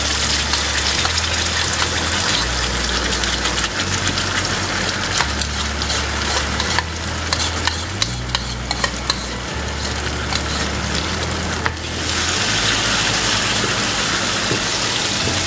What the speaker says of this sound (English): Let's fry the masala once again with the onions.